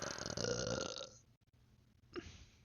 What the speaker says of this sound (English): I just ripped a burp.